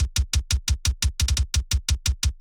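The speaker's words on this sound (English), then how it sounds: "So I got some clicky kicks" Clicky electronic kick drums for a Doom Eternal metal remix thump in a steady, fast, evenly spaced run of about fourteen sharp, punchy hits, dry and close.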